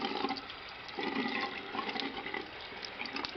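Tap water runs steadily and splashes close by while a small mouse is being rinsed under it, a continuous rushing flow with irregular splatters and no voices.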